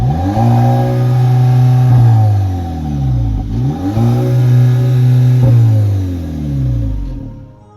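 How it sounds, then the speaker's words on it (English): Twin tailpipes on a 2023 VW Polo GTI bark through two loud revs, each climbing to the soft limiter, holding and dropping back, recorded close and alone. "twin tailpipes, which sound nice, but they have a soft limiter."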